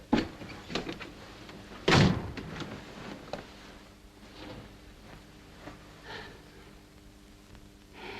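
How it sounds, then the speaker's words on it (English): A door is shut in an interior scene from a 1941 film: one sharp, loud thud about two seconds in, with a few lighter knocks and faint breathing and shuffling before and after. "Shut the door."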